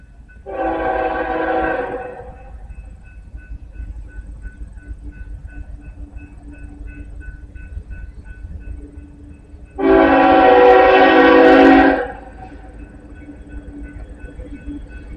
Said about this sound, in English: We got an eastbound that's coming to this crossing.